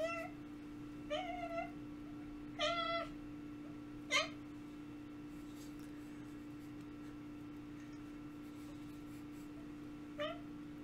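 A cat gives several short rising chirps and trills, spaced irregularly over a steady low electrical hum indoors, with the calls fairly close and moderately loud.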